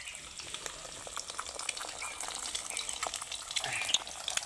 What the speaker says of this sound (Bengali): দেখছো কত সুন্দর এটা ফটফট ফটফট করতেছে